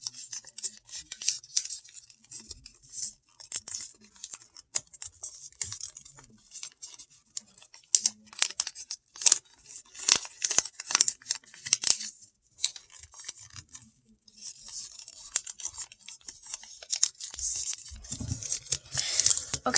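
Paper is unfolded and folded by hand, giving a long run of dry crinkles, creases and sharp crackles in irregular bursts, close and fairly quiet, with no one talking.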